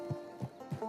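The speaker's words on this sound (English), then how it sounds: "Get on the horse when you're ready." Horse hooves in Red Dead Online, three soft clip-clop steps in an even rhythm with a faint snort, fairly quiet and without speech.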